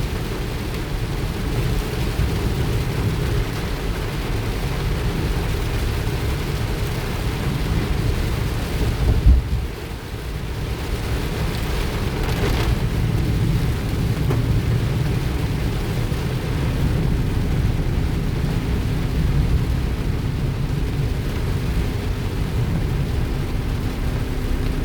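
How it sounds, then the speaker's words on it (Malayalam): Heavy rain drums on a moving car while thunder rolls, a loud, dense low roar with the rain's steady hiss over it, swelling briefly midway and continuing unbroken without talk. "അടിപൊളി മഴ, അടിപൊളി മഴ ഗൈസ്."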